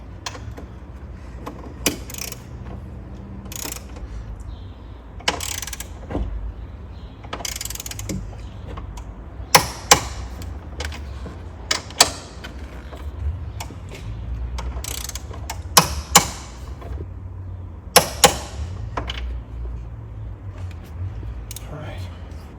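Strut brace bolts on a 2025 BMW M2 LCI being tightened to torque spec, heard as soft ratcheting clicks and metallic handling noises with several sharp clicks from the torque wrench, while someone talks throughout.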